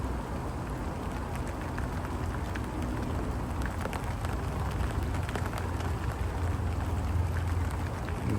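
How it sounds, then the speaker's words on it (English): Steady rain falls in the late afternoon, a continuous soft hiss with faint scattered drop taps and a low background rumble, even and fairly quiet throughout. "The rain's in now until about 7"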